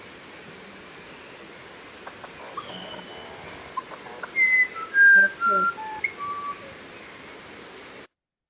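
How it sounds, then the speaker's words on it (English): A musician wren sings a few clear, melodic whistled phrases, pure tones sliding between pitches, heard at moderate distance over a hissy background with faint insect-like ambience and no talking. "So that is the aptly named musician wren, which sounds very melodic."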